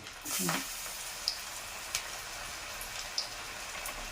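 Prawn vada batter dropped into hot oil, a sudden burst of bubbling sizzle that settles into a steady soft frying hiss, with a few sharp spatter pops.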